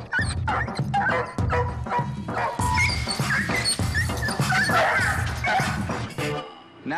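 Dog-aggressive dog barking repeatedly and loudly up close in a rapid, steady series, mixed with high yips and whimpers, ending with a brief quieter pause.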